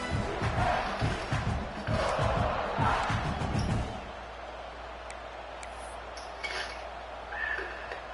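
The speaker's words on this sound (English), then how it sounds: "This crowd bringing the energy and noise early" Stadium crowd in College Football 26 roars loudly for a few seconds, then settles into a steady background murmur with occasional faint game sounds.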